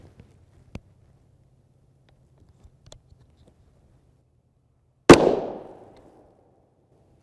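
A single 9x19mm 46-grain DefenseCore Sim-X round fires from a 7.72-inch barrel, one loud sharp crack with a short decaying echo after a few faint clicks and near silence.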